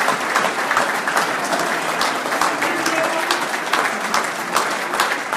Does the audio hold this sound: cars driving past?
no